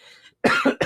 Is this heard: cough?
yes